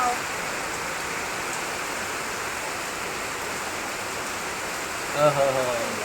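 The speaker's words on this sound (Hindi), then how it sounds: "और बारिश बहुत ही ज़्यादा तेज हो गई है" Steady heavy rain in Goa hisses as a dense, unbroken roar throughout, with a brief louder rustle near the end.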